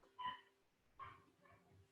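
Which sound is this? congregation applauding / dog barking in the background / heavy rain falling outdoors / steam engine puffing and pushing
dog barking in the background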